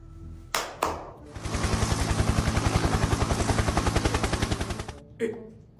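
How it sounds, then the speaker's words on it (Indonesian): A helicopter is heard close and loud, with a rapid, steady rotor chop that holds for several seconds and then cuts off. Short thumps come just before and after it. "Itu helikopter siapa? Helikopterku lah."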